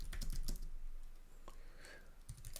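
Keys on a computer keyboard clatter in quick bursts at the start and end, with a quieter pause between, close-miked and faint.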